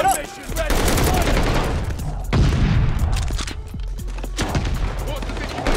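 Call of Duty Vanguard gunfire crackles in dense overlapping bursts and booms throughout, with voices talking over the shooting.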